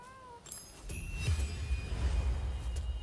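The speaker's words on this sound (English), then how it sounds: "What are you doing by the river, cat?" A cat meows beside a river in the Rise of the Ronin video game, a few rising and falling cries over a low rumbling ambient bed of game sound.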